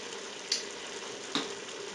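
Ground beef sizzles quietly in a pan as chili seasoning is stirred in, a low steady frying hiss broken by two brief spoon scrapes and clinks against the pan.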